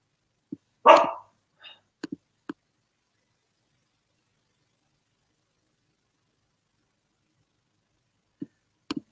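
A five-month-old puppy gives one sharp bark and a few brief, scattered yips indoors, separated by long quiet gaps.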